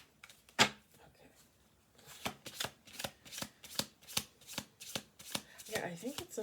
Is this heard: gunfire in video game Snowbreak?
no